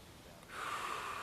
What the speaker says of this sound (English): Maybe some nice deep breaths.